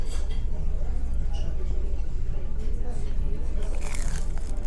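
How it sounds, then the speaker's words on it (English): Crisp crunching from biting into fried potato pakora dipped in yogurt sauce, several bites close to the mic amid a busy room with chatter in the background. "That was crunchy. Did you hear that crunch?"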